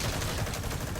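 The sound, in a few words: gunfire in Metal Gear Solid V video game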